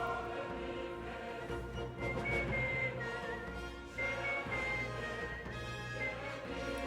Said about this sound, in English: Friedrich will actually whistle along to the main theme